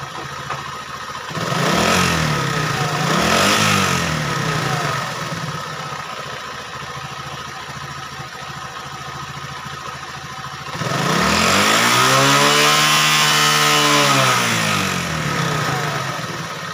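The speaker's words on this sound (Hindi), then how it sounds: "अभी हम बाइक को स्टार्ट करते हैं" A Honda CD-70 motorcycle engine with a faulty oil pump idles loudly nearby, revved twice in quick bursts, then settles before a longer, sustained rev rises and falls.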